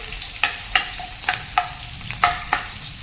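Chopped garlic frying in oil in a wide pan over a high gas flame, a steady close sizzle punctuated by a series of sharp scraping clinks as a spatula stirs it.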